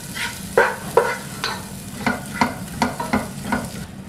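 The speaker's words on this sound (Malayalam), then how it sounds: "നമുക്ക് ഈ തവി വെച്ച് തന്നെ ഒന്ന് മാഷ് ചെയ്തെടുക്കാം." Cooked tomatoes being mashed with a ladle in a pan, giving a series of soft, wet scraping and squishing strokes roughly every half second, close and moderately loud, with no talking.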